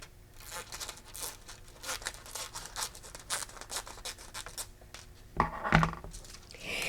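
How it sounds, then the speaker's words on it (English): Scissors snipping and paper crinkling at close range while a piece of craft foil or cardstock is trimmed down, a run of soft rustling cuts followed by a sharper snip near the end. "I'm going to get some scissors and cut this piece down a little bit."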